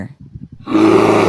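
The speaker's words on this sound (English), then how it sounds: "Bear." A bear gives a loud, sustained roar lasting most of a second, preceded by a brief stretch of low grunting rumbles.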